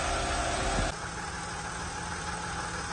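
A Volkswagen Touareg engine idles after being restarted, a steady mid-pitched running hum that drops slightly in loudness after the first second and then holds even.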